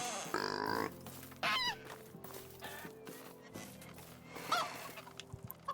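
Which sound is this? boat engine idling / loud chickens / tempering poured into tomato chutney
loud chickens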